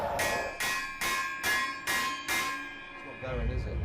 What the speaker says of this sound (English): We're at that point where we're just hitting it with a hammer.